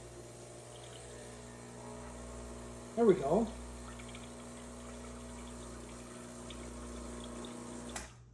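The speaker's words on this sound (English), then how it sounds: "It's gonna start sucking the water into the boiler." A Gaggia Classic Pro espresso machine pump draws water into its boiler, a steady low mechanical hum running throughout, with a short louder surge near the middle and a brief spoken remark over it.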